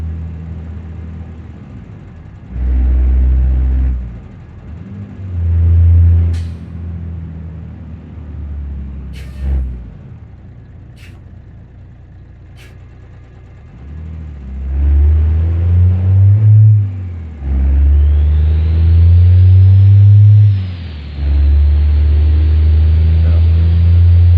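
Big diesel trucks with Power Stroke Cummins engines in BeamNG.drive rumble through repeated loud revs and idles, with high air-brake hisses and a rising whine near the end; a voice talks over it in places.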